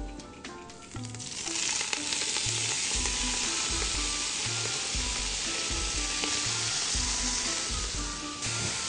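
A full bunch of spinach dropped into hot garlic oil in a pan for a lasagna sizzles loudly and continuously, with occasional stirring scrapes and clatters underneath and no voices.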